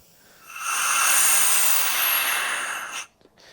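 Compressed air hisses out of a leaking gasket on a sandblaster during a Tin Grille Dodge restoration, a loud steady broadband rush lasting about two and a half seconds before cutting off abruptly.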